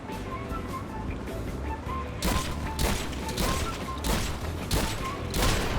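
Gunfire in the video game GTA V Online comes as a run of loud, sharp bursts about every half second to second over a steady engine-like background.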